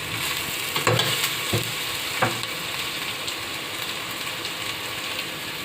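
Ginger and garlic paste fries in a hot pan with a loud, continuous sizzle, punctuated early by a few sharp scraping stirs before settling into an even hiss.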